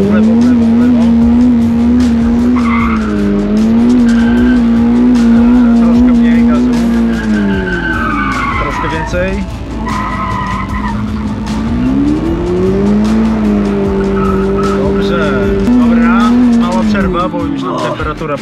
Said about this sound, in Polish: tak żebyś po prostu poczuła, jak ten samochód się zachowuje po wciśnięciu gazu gwałtownym